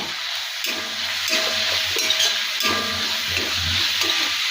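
Drumstick leaves frying in a pan, a steady loud sizzle with repeated scraping stirs throughout, close and without talk.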